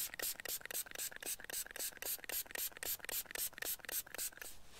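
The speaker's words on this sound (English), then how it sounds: "Also going to take a few and spray it with some rubbing alcohol" Rapid, rhythmic bursts of hissing spray from a bottle of rubbing alcohol, about fifteen short pumps in quick succession, close by and fairly loud.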